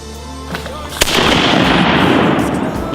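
A single sharp shotgun blast on opening day of duck hunting outdoors, loud and close, followed by a long broad rumbling wash of echo and ambient noise.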